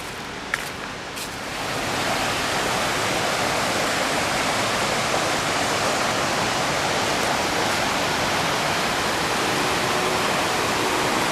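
A steady, loud roar of the rushing New River in the New River Gorge fills the scene, constant and broadband, with a couple of faint clicks at the start.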